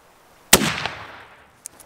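A single sharp, loud muzzleloader rifle shot fired at a mule deer on a high-country public-land hunt, booming out and decaying over about a second, with a faint second knock shortly after.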